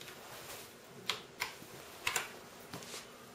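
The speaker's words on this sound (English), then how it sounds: "Now we hit Ctrl and Alt and F2." Key presses on a computer keyboard as a Ctrl, Alt and F2 combination is entered on a Chromebox, heard as a few separate soft clicks spread across a quiet stretch.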